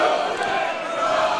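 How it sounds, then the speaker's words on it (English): A crowd at the Roman Parobek vs Nic Lute fight chants for the fighter Roman, a dense, steady roar of many voices filling the arena with no clear break. "Little Roman chant here from the crowd."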